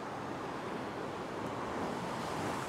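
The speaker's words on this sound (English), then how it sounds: "Probably wait for this next wave to go." Ocean waves wash over coastal rocks at a rock fishing spot, a continuous broad roar of surf and spray with some wind, steady and fairly close, with no speech.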